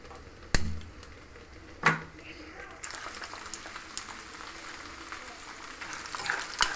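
Chana dal and urad dal fry in hot oil for sesame-powder pulihora, a steady crackling sizzle punctuated by a few sharp clacks of utensils against the pan, with faint voice in the background.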